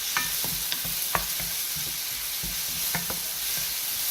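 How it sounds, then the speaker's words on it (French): Onions and leeks sauté in an oiled pan for chicken and shrimp nems, giving a steady, dense sizzle dotted with small pops and stirring scrapes, with no talk. "On va les laisser revenir jusque les oignons et les poireaux soient translucides"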